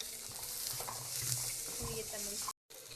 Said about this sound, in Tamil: வெங்காயம் நன்றாக வதங்கியதும் தேங்காயை போடணும்